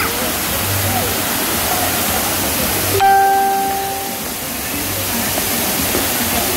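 Waterfall at an outdoor water park pours in a steady, loud broadband rush that fills the whole stretch, with a brief tonal ring partway through layered over the constant water noise.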